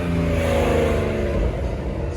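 A Porsche GT3 Touring engine revs loudly and steadily nearby, a sustained throaty drone with a slight pitch drop near the end, heard at an outdoor car show.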